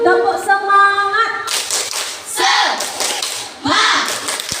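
A classroom of children performs a rhythmic spirit clap led by a teacher, short bursts of sharp hand claps in quick patterned groups, loud and close, with a teacher's voice at the start.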